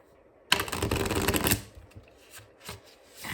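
A deck of tarot or oracle cards is shuffled close by: a dense one-second riffling burst, then scattered soft taps and slides as the cards settle, without speech.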